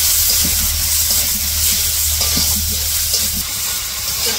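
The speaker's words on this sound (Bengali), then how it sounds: "সব মশলা দিয়ে চিংড়ি মাছ দিয়ে কষিয়ে নিচ্ছি।" Prawns frying with spices in a pan for a Bengali dish, giving a loud, continuous close sizzle and hiss with faint stirring scrapes.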